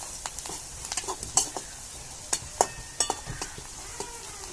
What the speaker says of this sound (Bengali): এবার মশলাটিকে আমরা একটু কষিয়ে নেবো নড়িয়ে নড়িয়ে।